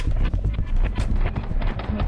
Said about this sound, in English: What is behind you? It's a horse.